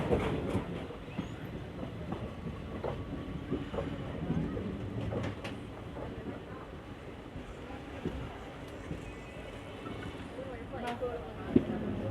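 A train rolls along on rails with a steady rumble and irregular clicks and clacks, while people talk faintly in the background; an Onam special train travelling from Bengaluru to Palakkad.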